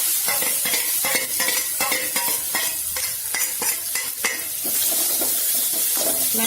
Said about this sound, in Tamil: லைட்டா வதக்கிக்கணும்.